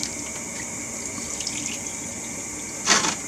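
An old oil and gasoline mix drains from a Craftsman engine into an ice tray as a steady, thin trickle, with a brief louder splashing gush near the end.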